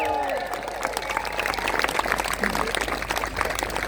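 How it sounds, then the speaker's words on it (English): A crowd at a charity walk breaks into applause, a sustained wash of many clapping hands that rises quickly after a brief tonal sound at the start and carries on at full strength. "Give yourselves a round of applause"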